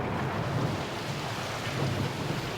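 Thunder rumbles low and continuous, a dense broad roll mixed with rain-like hiss, close and steady throughout with no voices.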